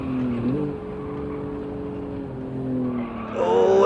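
Nissan Skyline GTR 2000 in Gran Turismo 7 at the Nürburgring, engine droning steadily while the tyres squeal and scrub under braking, swelling louder into a sharp screech at the end.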